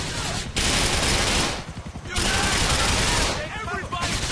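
Rapid bursts of automatic gunfire from a weapon in the video game Grand Theft Auto IV, loud and dense, with brief pauses between sustained volleys.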